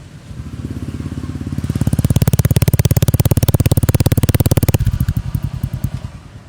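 A Honda Click scooter fitted with an Indo burn pipe exhaust revs up from a steady idle into a loud, sustained throaty roar for about three seconds, then drops back to a lumpy idle.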